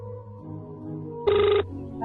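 A telephone rings once in a short burst partway through, a bright electronic ring standing out over low room hum in a home.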